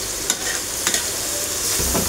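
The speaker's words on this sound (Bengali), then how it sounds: "মাছটা একটু হালকা ভাজা হোক" Hilsa fish frying in a pan, a constant close hiss of hot oil broken by a few sharp spatters and utensil taps.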